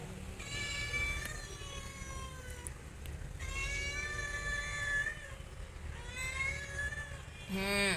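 A cat lets out three long, wavering meows close by, each drawn out over a second or more, ending with a shorter call.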